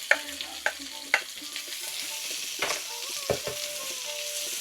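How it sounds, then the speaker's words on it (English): A medium red onion dropped into hot oil with sizzling seeds for a potato and cauliflower curry, frying with a soft steady sizzle and several sharp stirring scrapes, close and alone. "And into that I'm putting a medium onion."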